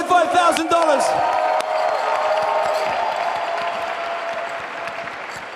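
Audience at a fundraising gala bursts into loud applause, opening with whoops and cheering voices that fade into a steady, sustained clapping from a large crowd.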